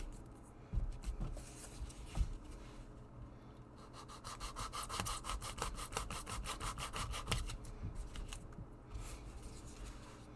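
A sharp knife trimming the foam edge of a LARP-safe rapier at an angle, heard as rasping, saw-like strokes that repeat quickly in a steady run midway and sound close and fairly quiet.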